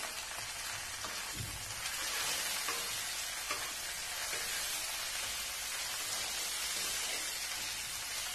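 Cauliflower roast with soaked cashews, raisins and melon seeds crackles in a steady, rain-like sizzle, with faint stirring scrapes underneath.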